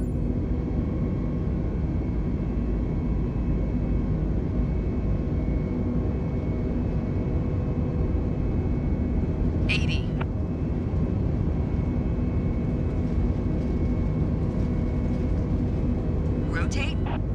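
The jet engines of an A320 in Microsoft Flight Simulator roar in a broad, steady rumble during the takeoff run, with a couple of brief higher clicks.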